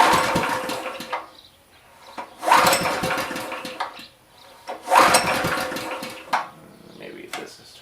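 A faulty plate compactor that won't start, with three separate bursts of its small engine cranking and sputtering, each lasting about a second, with quiet gaps between them.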